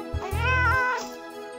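A cat gives one drawn-out, rising-and-falling meow, close and clear with no other sound, followed by a fainter trailing note.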